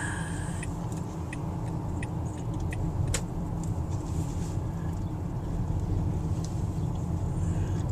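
Car driving into the small town of Kanab, Utah, a steady close interior road rumble and engine drone with light rattling, continuous and even throughout with no talking.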